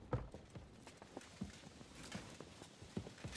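Horse hooves in Kingdom Come: Deliverance 2 clip-clop at a steady walking pace, fairly faint, with irregular thuds over a soft outdoor bed and no talking.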